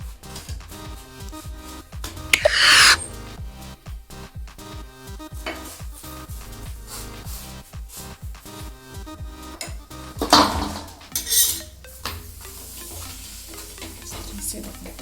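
Maize paratha frying in refined ghee on a hot pan, a soft steady sizzle with stirring and scraping, and a couple of louder clanks from the pan.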